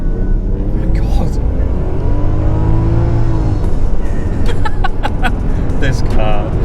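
Toyota Crown with a 1JZ engine accelerating hard at full throttle, a loud continuous engine roar rising in pitch, heard from inside the car with people talking and laughing over it.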